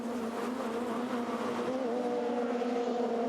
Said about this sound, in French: Les roues allumées, un peu bloquées pour Yvan Muller.